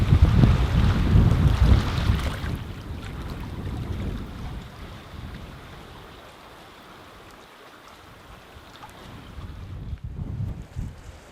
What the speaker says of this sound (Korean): 바람이 너무 크게 불어가지고